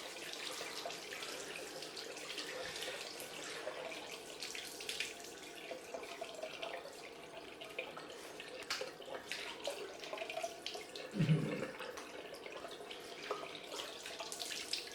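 Cold water runs steadily from a tap during a wet shave, a continuous close hiss with small splashes and one brief louder gush partway through.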